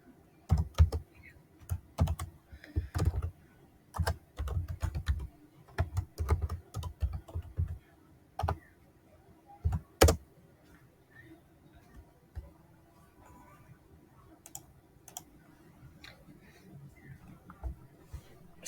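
Someone types code on a computer keyboard, close up, with bursts of quick keystrokes, short pauses and occasional louder key hits, steady for most of the stretch and thinning out toward the end.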